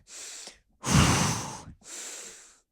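Three heavy, audible breaths taken during a rest between sprints in a slide workout class, each a long, breathy exhale or inhale, close to the microphone, with the middle one loudest.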